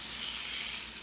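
Butter sizzling in a hot pan while making a keto breakfast, a steady bright hiss and crackle that stays close and even throughout, with no voices over it.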